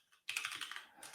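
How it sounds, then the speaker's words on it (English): Fast typing on a computer keyboard during a live coding demo, a quick burst of close, dense key clicks after a brief quiet start. "I'm bad at typing right now."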